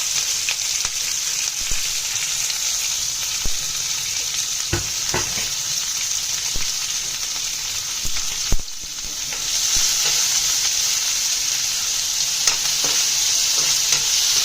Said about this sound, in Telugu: ఇప్పుడు ఉల్లిపాయ, పచ్చిమిర్చి, అల్లం వేసేయండి.